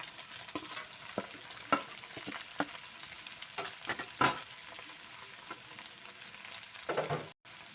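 Cabbage and egg stir-fried in a pan for a glass noodle dish, giving a steady close sizzle broken by sharp scraping and stirring knocks at irregular intervals, with no talking.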